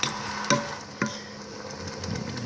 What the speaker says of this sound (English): Now, to get a good boil, you want to stir, and it should still be boiling while you're stirring.